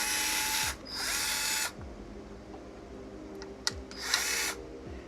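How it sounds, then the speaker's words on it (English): A cordless power screwdriver undoes the screws of an original Xbox controller, in several loud whirring bursts with short pauses and clicks between them. A falling whine marks the end of each burst. There is no talk. "Just undo the screws."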